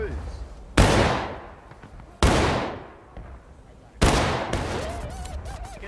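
Musket volleys in the Civil War game War of Rights: three loud, abrupt broadband blasts about every one and a half seconds, each fading into a long echoing tail, with shouting voices underneath.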